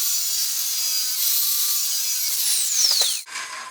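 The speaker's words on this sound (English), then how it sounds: "I've got a masonry blade in the skill saw." Skill saw fitted with a masonry blade cuts through a tile backsplash, a loud, continuous high grinding whine lasting about three seconds before the blade bites free and the noise drops off sharply.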